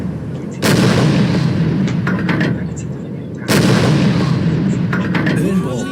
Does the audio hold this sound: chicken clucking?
no